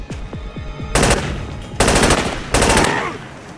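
Machine gun fire in a video game, with three long bursts of rapid automatic shots and a few shorter single shots before them, loud and close.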